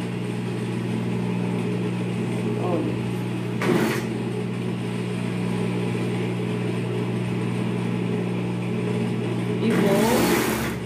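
A sewing machine stitches a pajama sleeve cuff with a steady droning hum that runs throughout, briefly interrupted by short bursts of handling noise near the start and end.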